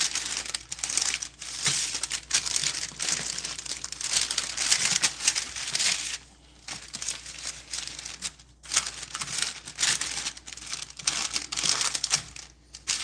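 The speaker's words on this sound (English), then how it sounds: "I'm gonna need a rolling pin. Just gonna roll it out to some type of shape." Chicken crust dough made from canned chicken meat is rolled out with a rolling pin, giving a steady run of close, crinkly rolling and rubbing strokes with short pauses, and no talk.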